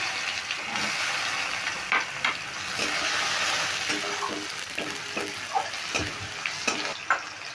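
Chopped tomatoes sizzling loudly in a frying pan, with a steady crackling fry and repeated scraping clinks of a spoon stirring them close by.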